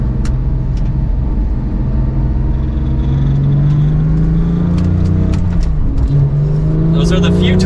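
A 991.2 Porsche 911 GT3 with a manual gearbox accelerates hard through the gears from second. Its engine note climbs steadily, drops briefly at an upshift, then climbs again, loud and close amid wind and road noise.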